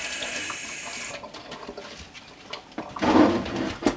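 Tap water runs over green onions in a kitchen sink, a steady hiss that thins out and then splashes louder near the end as the onions are rinsed.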